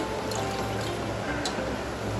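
Water goes into a pot of sugar to make syrup for instant jalebi, a dense, even rush of pouring close by that lasts the whole moment without a break.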